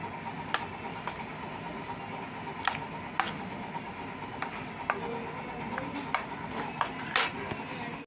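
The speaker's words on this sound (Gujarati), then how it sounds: "હવે આ બધું અંદર નાખી દઈશું આપણે અને હલાવી લઈએ" Onions, tomatoes, garlic and chillies stirred in a pan in a home kitchen, a spoon scraping and clinking against the metal in scattered light taps over a soft background hiss.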